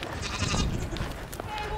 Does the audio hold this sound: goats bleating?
yes